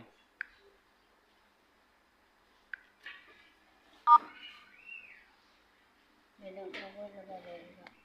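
Mobile phone keypad tones from dialing a number to top up credit, heard as a few short separate beeps spaced apart, followed by a louder burst of tones near the end, with brief talk in between.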